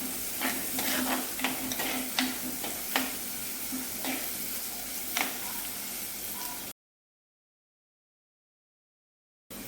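Onions and green chillies sautéing in a pan for a Kerala prawn and bilimbi curry, a faint continuous sizzle with soft scraping stirs, then a gap of silence.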